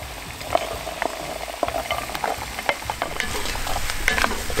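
Beef and soup vegetables sizzle and fry in a Dutch oven, with steady crackling spatter and occasional scrapes of stirring throughout, close and moderately loud.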